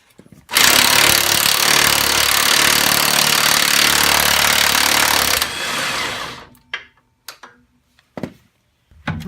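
A pneumatic impact gun hammers loudly and continuously on truck suspension bolts for about five seconds while an S10 front suspension is taken apart, winding down into scattered clanks and shorter bursts.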